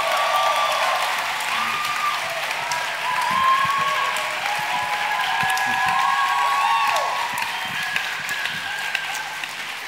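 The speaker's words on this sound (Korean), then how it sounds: "특별히 박수로 환영해 주시길 바랍니다" A church congregation applauds to welcome a pastor at a Sydney Korean church youth service, steady sustained clapping filling the room at full strength from start to finish, with a few faint voices in the background.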